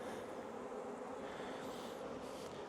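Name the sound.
honey bees buzzing during hive inspection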